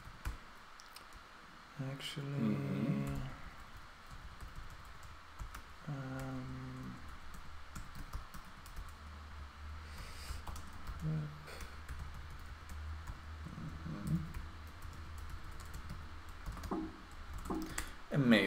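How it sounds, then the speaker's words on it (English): Soft keyboard clicks tap away intermittently in the background while someone speaks briefly now and then. "more typing."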